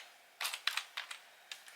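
Light typing on a computer keyboard while setting up a Windows Vista PC, a few quick clusters of soft key clicks close by and otherwise quiet.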